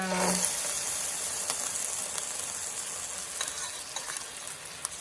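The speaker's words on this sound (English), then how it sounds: "I'm going to just add the fish into the pan." Fish frying in hot oil in a pan, a steady close sizzle with a few light stirring clicks, no talking.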